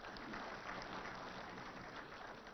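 Applause from an audience at an IT department annual report launch event, a dense, even, rain-like hiss of many clapping hands heard from a distance, quiet and continuous.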